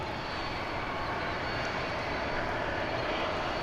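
A passenger airplane at DFW Airport, seen at night, gives off a steady, loud, broadband engine roar that holds at an even level throughout, with no voices over it.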